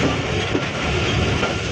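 Barendra Express train running from Saidpur toward Rajshahi, a steady, loud, continuous rumble and clatter of wheels on rails, heard close from on board with no talk.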